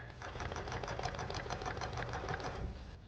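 Sewing machine stitching silk panels, running in a fast, even, mechanical patter that holds steady throughout at a fairly quiet level.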